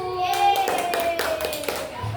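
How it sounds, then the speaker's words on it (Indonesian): A class of young pupils claps for a group of classmates in a school lesson, brisk applause over about two seconds, with a teacher's voice and children's chatter mixed in. "Tepuk tangan untuk kelompok 1"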